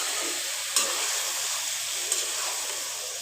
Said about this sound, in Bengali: আমি মাছটাকে এইটার সাথে ভালো করে আবার কষে নিচ্ছি